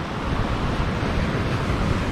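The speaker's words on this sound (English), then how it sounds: "watch out for those waves" Ocean waves surge and wash against shoreline rocks in a continuous broadband roar with wind buffeting the microphone, close and fairly loud with no voices.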